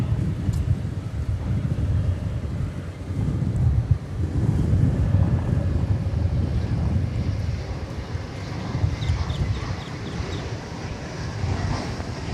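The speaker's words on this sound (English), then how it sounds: "that wind is just picking up" Steady wind buffets an open-air microphone at Dallas/Fort Worth (DFW) Airport, a continuous low rumbling roar that holds for the whole stretch with no voices.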